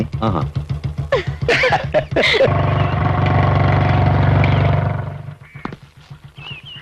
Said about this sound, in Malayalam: അവിടെ ബൈക്ക് സ്റ്റാർട്ട് ചെയ്ത ശബ്ദമാ